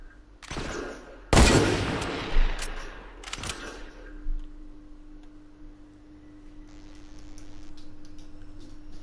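Gunfire in a PS4 video game comes as a few sharp, loud bursts of rapid shots early on, then fades to faint background game sounds and a low steady hum.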